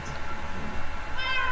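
Cats meow in the video game Minecraft, a short, clear high meow near the end rising over a soft background hum, with no talking.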